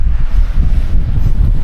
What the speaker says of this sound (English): Now it is really windy